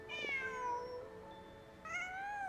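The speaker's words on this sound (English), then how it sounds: "Just a cat." A cat in the Genshin Impact video game gives two clear meows, one at the start and another after a short pause, loud and close with no speech over them.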